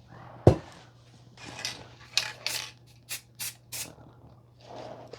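Aerosol paint sprayed onto a toilet seat during a resin makeover, heard as several short, separate hissing bursts at close range over a low steady hum, with a sharp knock near the start.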